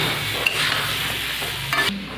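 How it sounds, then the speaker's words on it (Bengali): Potatoes and banana stems fry in a pan with chilli, salt and turmeric. A dense sizzle runs throughout under close stirring scrapes, and it cuts off suddenly near the end. No one speaks. "এটাকে ভালো করে একটু ভেজে নেব"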